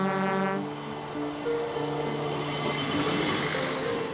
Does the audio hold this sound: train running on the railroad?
yes